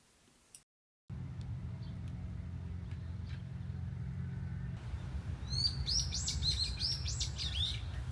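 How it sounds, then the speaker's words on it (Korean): Small birds chirp and trill in quick bright bursts in the morning around garden lodging, fairly faint over a low steady hum of distant traffic, the calls growing busier toward the end. "새소리와 함께하는 아침의 숙소 풍경입니다."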